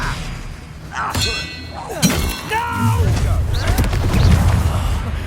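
Spells cast in a Harry Potter video game crack, shatter and clang in quick bursts, followed by rumbling impacts, with voices speaking among the effects.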